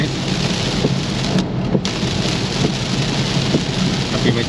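Heavy rain pours steadily with low rolls of thunder, heard from inside a car on a test drive, a loud continuous hiss with deep rumbles underneath.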